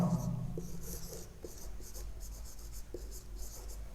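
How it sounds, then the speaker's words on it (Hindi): Chalk or marker writing a definition of salts on a classroom board, with quick scratchy strokes and a few taps in a steady run, close and clear over a faint room hum. "पहले डेफिनेशन लिखता हूँ।"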